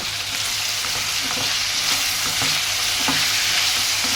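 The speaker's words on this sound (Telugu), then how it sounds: "ఇది మంచిగా కలిపేసి మూత అనేది పెట్టేసుకొని మగ్గిస్తుంది" Salted vegetable pieces sizzle in a hot pan while being stirred, giving a continuous close frying hiss broken by soft scraping and tapping strokes of the spoon, with no voices.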